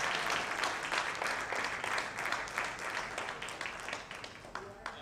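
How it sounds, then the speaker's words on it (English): An audience at a villa launch event applauds a guest of honor, sustained dense clapping at moderate volume that holds steady for several seconds before tapering slightly, with a voice briefly audible through it. "We want a huge round of applause,"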